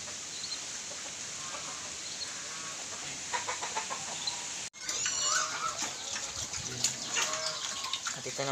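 Chickens cluck and murmur around a farmyard with native pigs, with other livestock noises and rustling; a brief dropout interrupts midway before the clucking continues.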